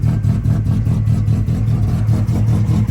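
A cheap project car's engine runs loud and close, held on the throttle with a rough, pulsing rumble that surges steadily without pause, no voices over it.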